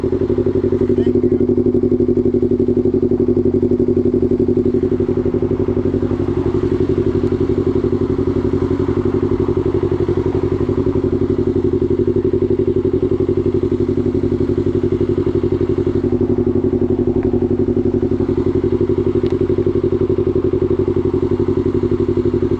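A Yamaha R3 sportbike engine runs steadily, loud and close, a constant droning hum with faint clatter and thumps throughout and no clear talk.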